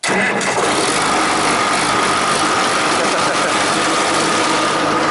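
A 1963 Oliver 1600 diesel tractor engine catches after being spun over by hand on the exhaust, then runs steadily and loudly close by with a dense, continuous roar and no talk.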